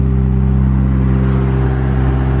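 McLaren 600LT sports car engine heard from inside the cabin, a loud, deep, steady rumbling drone with strong low harmonics, sustained throughout without speech.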